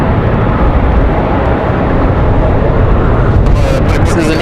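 A Delta Connection Embraer E175 regional jet run by Republic Airways arrives at Raleigh-Durham airport on a windy day, a loud continuous low engine roar that fills the whole clip with no gaps.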